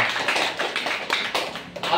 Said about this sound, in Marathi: जोरात टाळ्या वाजवा परत एकदा